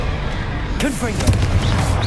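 Confringo spell explosion in the Hogwarts Legacy video game: a sudden loud blast under busy combat noise, with swirling whooshing spell effects and a following boom, a voice briefly calling out amid the din.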